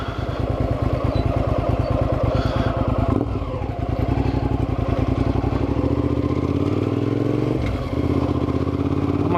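A motorcycle engine runs steadily and loudly up close, a fast even firing pulse with a rise in revs partway through, as the rider gets set for a wheelie.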